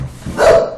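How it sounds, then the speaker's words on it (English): A bull terrier gives a single short bark, close and loud, indoors. "Oh, it's actually my bull terrier barking there."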